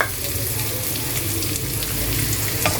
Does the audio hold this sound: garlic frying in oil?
yes